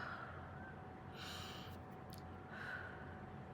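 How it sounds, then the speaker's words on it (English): Deep breaths taken during a guided affirmation session: two soft, airy breaths, a longer one followed by a shorter one, close and quiet over low steady background hiss. "Take 3 deep breaths and repeat after me."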